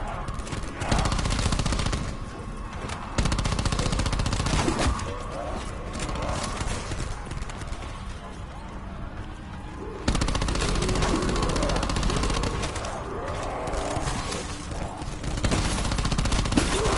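Bursts of gunfire from a Black Ops 4 Zombies match fill the scene, loud and repeated in rapid volleys over a dense game soundtrack, with a voice speaking during the shooting.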